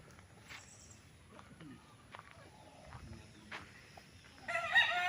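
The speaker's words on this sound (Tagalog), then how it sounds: "Daming manok, oh. Mga manok panabong." Fighting cocks on a game farm crow from a distance, several calls spread across the stretch over quiet rural background. A louder, closer crow comes at the end.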